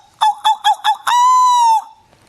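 A man imitates a seagull with his voice: four short, nasal squawks in quick succession, then one long, drawn-out cry. The calls are loud and close, with silence around them.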